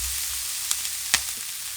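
Steady sizzling of vegetables and tomatoes frying in a pan, a constant hiss broken by two brief sharp crackles or stirring clinks.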